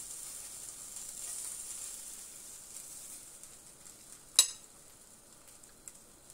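Bacon sizzling in a pan, a faint steady high hiss and crackle, with one sharp louder pop partway through.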